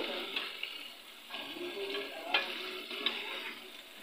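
Chicken wings deep frying over a low flame give a soft, continuous bubbling sizzle, fairly quiet, with a few faint clicks and stirring touches scattered through.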